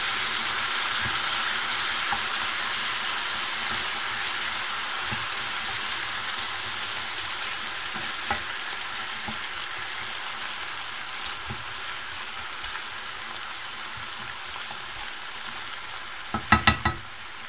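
Browned mushrooms sizzle steadily in a pan after water and cornstarch are poured in, a continuous bright frying hiss with soft stirring scrapes and a brief clatter of utensil against pan near the end.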